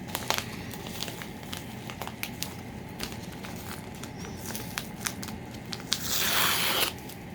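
A package holding Dover elevator keys is opened by hand, with close crinkling and scattered sharp clicks and rustles, then a louder burst of tearing and crackling wrapping near the end.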